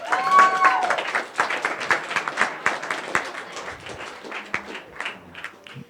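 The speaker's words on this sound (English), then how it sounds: "One more quick round of applause for them." Wedding reception guests at The Haight clapping, a sparse, uneven patter of individual claps in a room, starting a little fuller and thinning out toward the end.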